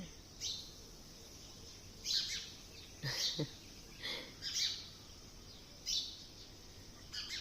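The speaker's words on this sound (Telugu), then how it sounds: "అక్కడ పిట్టే ఉంది చూడండి అది ఎంత బాగా అరుస్తుంది" Several short, sharp bird calls ring out at irregular intervals over a quiet outdoor background, moderately close.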